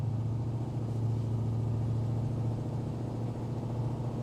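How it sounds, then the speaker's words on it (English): Interior of a 1980 Chevy K10 pickup driving over bumps: a steady low engine drone and road rumble with faint irregular thumps, no talking. "Back over some bumps. Now we're going over bumps."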